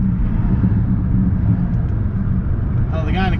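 A Volkswagen VR6 engine drones at low pitch as the car drives, a steady close rumble that fills the cabin, with a voice starting briefly near the end.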